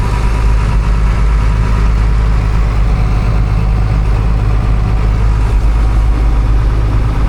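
A Kubota tractor engine idles loudly and steadily nearby, a constant low rumble with a mechanical chug throughout.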